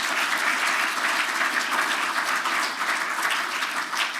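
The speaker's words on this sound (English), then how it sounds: "Let's also give a big warm round of applause to the team who's organised everything today." A conference audience at the Inclusive Growth Conference 2024 gives a big round of applause, steady and dense clapping that holds evenly throughout without a break, with no one speaking over it.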